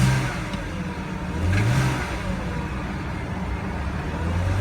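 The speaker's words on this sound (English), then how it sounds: "Let's see what this car sounds like when it starts up. It starts very smooth." A BMW 525i engine idles smoothly, then revs up briefly and settles back, with another short rev near the end. It is steady and close, with no one talking.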